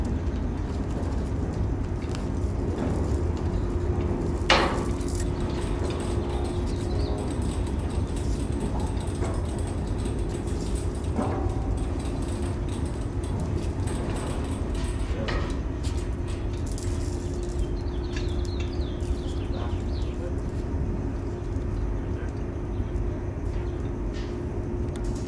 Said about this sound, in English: So we're going to roll the pipe up to the pressing head or gantry.